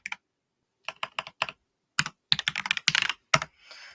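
Someone types on a rechargeable computer keyboard in a quiet room, the keys clicking in short uneven bursts with pauses between them, loud and close, with no voices.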